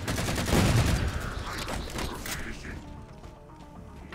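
Gunfire in the Halo 4 shooter game: a dense burst of rapid shots with mechanical clatter, loud at first and tapering into quieter background game noise.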